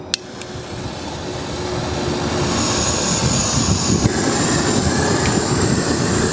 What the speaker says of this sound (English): I'm going to turn on the propane, turn on my handheld torch